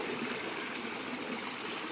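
Water of the Shiva river flowing at low level, a steady broadband rush and trickle heard up close and continuous throughout, with no speech.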